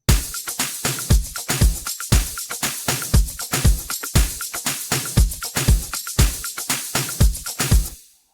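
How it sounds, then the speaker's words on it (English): A clap sample snaps in over a steady kick and shaker groove in an Afro House beat, loud and repetitive for several bars before cutting off abruptly. "and another clap now."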